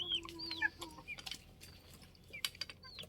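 Chickens, including a rooster, cluck and squawk in short, scattered bursts, fairly quiet, with no talking.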